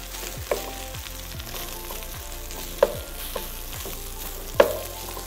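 Garlic frying in a pan until burnt, a steady close sizzle with a few sharp clinks of a utensil against the pan.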